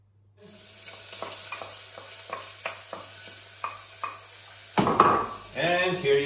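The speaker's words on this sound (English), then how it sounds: "cook the onion and the garlic until they have gotten completely soft" Onion and garlic cook in a pan until soft for a pizza sauce. A quiet sizzle sits under rhythmic spatula taps and scrapes, then swells into a louder, closer burst of sizzling and clatter near the end.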